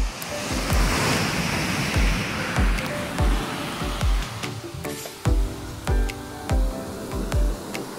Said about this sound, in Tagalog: Yan, ganyan kalakas ang alon ngayon.